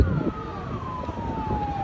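A fire brigade vehicle's siren wails at a scrapyard fire on a roadside, a single slowly falling tone heard at moderate distance over traffic and outdoor noise.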